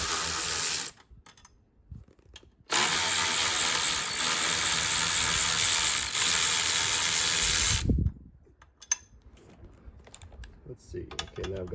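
A ratchet wrench loosening 10 millimeter bolts while replacing a torn seat cover, heard as long bursts of rapid clicking with a steadier ratcheting stretch, alternating with quieter pauses.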